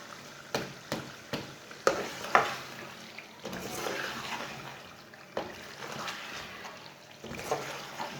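Garlic and chicken frying in a pan with steady sizzling broken by scraping clicks as it is stirred, moderately quiet and without talk.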